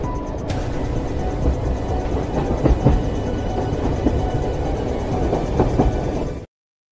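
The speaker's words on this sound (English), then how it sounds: "That is our Halloween haunted train." A Halloween haunted train rolls past with a loud, steady rumble and occasional clickety-clack knocks, then cuts off abruptly to silence.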